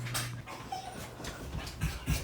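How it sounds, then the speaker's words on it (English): Frightened dogs whimpering and whining softly after a tree crashed into a house, thin high cries mixed with panting and shuffling noise close by. "The dogs are freaked out."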